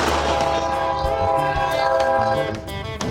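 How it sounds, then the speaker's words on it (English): A loud train rumbles close by, a sustained, dense roar with droning tones throughout, fading slightly toward the end. "Well, I hear a train."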